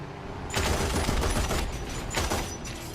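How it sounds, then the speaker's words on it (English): A tank's machine gun in War Thunder fires in loud, sustained bursts during a realistic battle, with a rapid rattling barrage close by and a brief second burst near the end. No voices. "I love the machine gun sounds."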